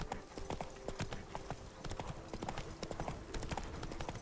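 Steady clip-clop of a horse's hooves at a galloping rhythm in The Witcher video game, continuous and fairly close, with faint background music and effects.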